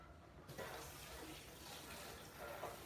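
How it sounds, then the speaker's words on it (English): Kitchen tap water running steadily into a sink while hands are rinsed during vegan brownie baking, a faint continuous splashing stream that starts after a brief quiet moment. "Okay, I'm going to rinse my hands off."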